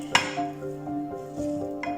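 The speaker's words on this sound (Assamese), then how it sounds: "এতিয়া এইখিনি ভালদৰে সানিব লাগিব।" A spoon clinks against a bowl while olive pickle is mixed with salt and vinegar, giving a few close metallic taps and a faint ringing tone, with no voices.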